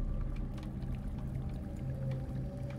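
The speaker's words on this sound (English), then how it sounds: "I hear water." Running water in the METEL Horror Escape video game makes a steady, low, rushing wash with a faint hum, continuous and fairly quiet, with no voices over it.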